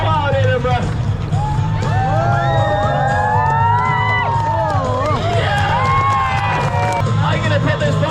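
A street-show crowd at the Edinburgh Fringe cheers wildly, with loud overlapping whoops and shouts rising and falling for the whole stretch over a steady low rumble.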